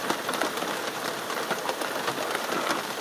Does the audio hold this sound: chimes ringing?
no